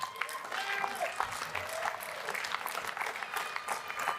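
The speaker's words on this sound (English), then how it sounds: "give Jackson a round of applause" An audience at a convention gathering breaks into steady applause, a dense crackle of clapping from a crowd that holds at an even level for several seconds, with voices mixed in.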